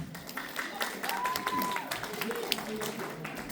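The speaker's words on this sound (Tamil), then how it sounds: "எங்கே உங்கள் கரகோஷம்?" A Tamil community foundation event audience offers scattered, fairly light clapping with uneven individual claps, mixed with some voices and background sounds.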